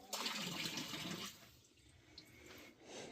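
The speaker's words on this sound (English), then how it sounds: "And now you're dumping water all over my stuff." Water is dumped out of a bucket on the ice at an ice-fishing spot, a faint close splash and gush that tapers off into light trickles within a few seconds.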